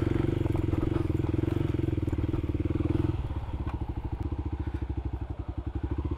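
A Kawasaki KLX300 dirt bike rides a rough trail in the Missouri Ozarks, its single-cylinder engine thumping loud and close. The steady drone gives way to a choppier, pulsing idle-like rhythm, with clatter from the rough ground.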